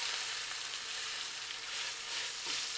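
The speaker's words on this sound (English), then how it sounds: "If you put the steak in the pan and you don't hear a sizzle, pick it right back out" Steak sizzles steadily in a hot pan with shimmering oil, a constant close hiss of frying with no talking.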